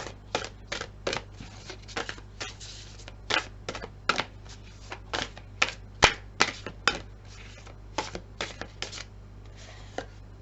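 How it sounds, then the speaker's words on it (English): A new Oracle of the Wylder Ones deck of tarot cards is shuffled by hand, quick irregular bursts of crisp card riffles and taps, close and clear, with no talking. "I forgot to pull 2 cards when I was shuffling. So I'm going to do that now for you."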